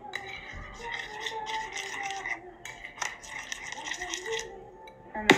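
Mermaid slime with glitter being stirred and mixed in a container, soft squishy and clicking sounds under a voice talking.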